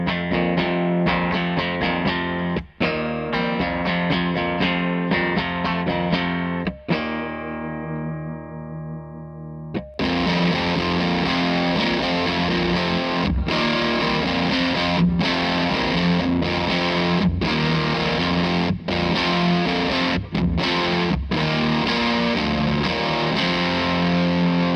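An electric guitar through a fuzz pedal into a Victory V40 amp plays fuzzy chords with a sustained note midway, then resumes a driving, heavily saturated riff with amp reverb.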